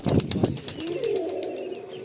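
Female pigeon beating its wings as it flies out, a quick flurry of close flapping that fades into a soft low coo and room noise.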